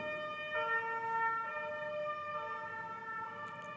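An ambulance siren passing outside a lecture hall, a steady two-tone wail with clear harmonic tones that switch pitch every second or so, moderately distant and heard alone without talk.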